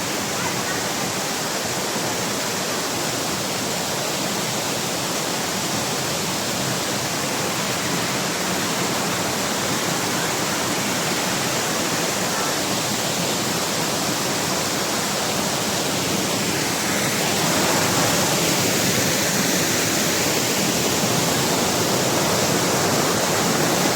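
The roar of Heaven Falls in Davao de Oro, a cold-water waterfall, fills the whole stretch as a dense, steady, loud rush of falling water with no breaks and no talking.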